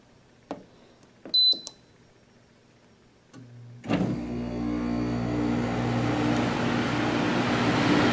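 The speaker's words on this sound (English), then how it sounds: "Definitely is a squirrel cage blower." GE dehumidifier, model ADEL70LRL2, from 2015: a few clicks and beeps, then its squirrel cage blower starts up and settles into a steady, loud whooshing hum with no talking.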